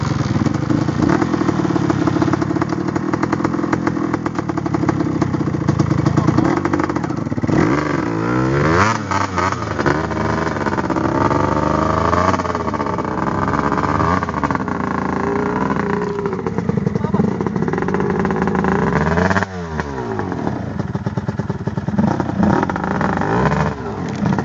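A two-stroke enduro motorcycle engine runs loud and close, revving up and down repeatedly with sharp throttle blips and brief dips toward idle throughout.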